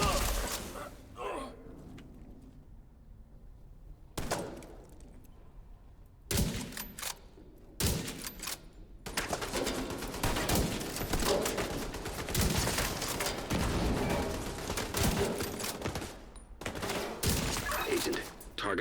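Automatic turret fire in a video game, heard as repeated loud bursts of rapid shots separated by short quiet gaps, growing into a sustained stretch of gunfire.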